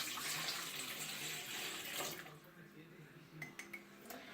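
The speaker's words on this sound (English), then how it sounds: "the first step is to pour in the water" A full cup of water is dumped into a mixing bowl for cupcake batter, a loud splashing pour for about two seconds, then quieter drips and light clinks in a kitchen.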